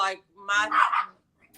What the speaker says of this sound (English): excuse my ghetto dog